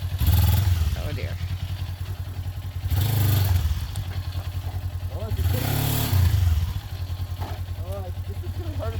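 A Kawasaki Ninja 400 street sportbike's engine revs repeatedly in loud surges as it labors up a hill on an offroad trail, dropping back between pushes, while a rider talks over it.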